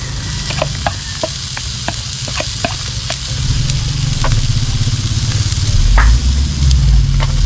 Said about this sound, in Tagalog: Sasangad natin ng bahagya itong shiitake take noodles